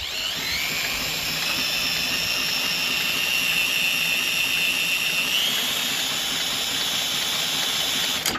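A 1973 Wheel Horse 8 hp four-speed tractor engine turned over by a drill and firing up, giving a steady, close, continuous high-pitched whine and mechanical drone for about eight seconds with no talk.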